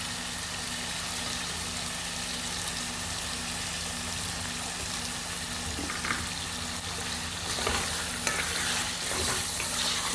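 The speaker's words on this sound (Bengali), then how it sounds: "আলু ভেজে নিচ্ছি" Potatoes frying in a pan with tomato and a mixed spice masala give a steady, dense sizzle throughout, with occasional soft stirring scrapes near the end and no voices.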